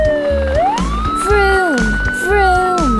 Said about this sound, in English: When the siren makes a sound, my police car always saves the day.